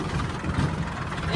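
A tractor engine runs with a low, steady rumble on a rough, dangerous farm track, close by and continuous with slight surges.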